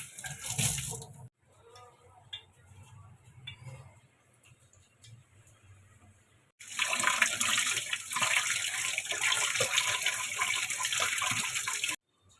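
Tamarind is washed in a container of water, splashing and sloshing with intermittent handling clinks, then a running tap gushes loudly for several seconds before stopping.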